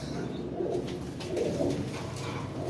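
Old-house pigeons coo steadily in low, throaty rolls that swell and fade in overlapping calls, fairly close and continuous with no talking.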